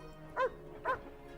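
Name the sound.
dog barking in the video game Dreamfall: Chapters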